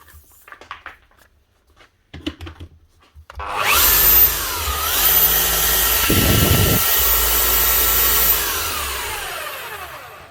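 A 24-year-old Makita HR3000C SDS Plus hammer drill comes on after a few handling knocks and runs its motor steadily with a loud, even whir. Pitch shifts slightly partway through before the drill winds down.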